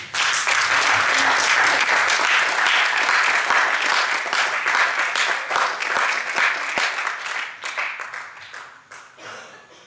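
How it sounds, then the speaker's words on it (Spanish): A church congregation claps loudly and steadily for several seconds at a Spanish-language sermon, then the applause thins into scattered claps and fades out toward the end. "Voy a pedir que le dé un fuerte aplauso a Dios."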